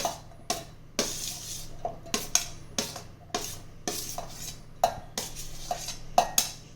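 Papaya pieces, pomegranate seeds and green grapes being dropped and spooned into a mixer jar for fruit juice, a series of sharp, close clinks and knocks on the jar at an irregular rhythm, about a dozen in all, with quiet gaps between.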